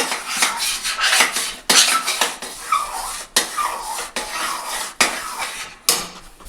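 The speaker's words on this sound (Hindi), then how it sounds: "खोए को मैं बहुत अच्छी तरह से भूनूंगी" Khoa roasts in a pan while a spoon stirs and scrapes it, making repeated bursts of scraping and clattering with brief pauses between them, close and fairly loud, with no voices.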